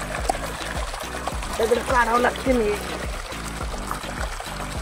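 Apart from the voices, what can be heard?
water pouring from a pipeline onto an onion field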